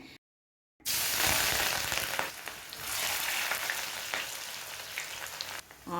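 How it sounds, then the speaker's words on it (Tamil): Sliced onions fry in hot oil in a pan with a steady, dense sizzle that carries on close and alone after a brief silent start. "இப்போ நீல வாக்கில் கட் பண்ணி வச்சுருக்கிற ஆனியனை ஃப்ரை பண்ணி எடுத்துக்க போகிறேன்."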